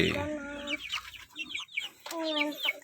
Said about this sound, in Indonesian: Ini bentuk apa ya? Ayam KUB.